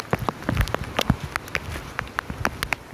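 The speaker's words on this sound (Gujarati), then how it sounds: "વરસાદ ચાલુ થઈ ગયો છે અને હવે પાછું અમે ઘરે જઈ રહ્યા છે, કેમ કે આગળ નહીં જવાય, વરસાદ એકદમ છે" Rain patters in scattered, distinct drops striking a surface nearby, an uneven tapping rhythm rather than a solid roar.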